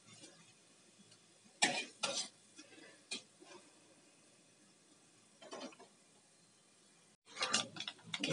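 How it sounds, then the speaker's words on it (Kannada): Chana dal, urad dal and mustard seeds fry in a pan for mango chitranna, giving scattered bursts of crackling and popping separated by quieter sizzling stretches, with a denser cluster of pops at the end. "ಸ್ವಲ್ಪ ಕಡಲೆಬೇಳೆ ಕಲರ್ ಚೇಂಜ್ ಆಗಬೇಕು, ಸಾಸಿವೆ ಕೂಡ ಸಿಡಿಬೇಕು, ಅಲ್ಲಿವರೆಗೂ ಫ್ರೈ ಮಾಡ್ಕೊಳ್ಳಿ"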